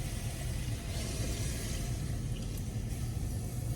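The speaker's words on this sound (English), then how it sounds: "you're gonna add 3 cups of water to this" Three cups of water pour steadily into a cooking pot of chopped tomatoes, a continuous splashing, gurgling rush that holds at an even level throughout.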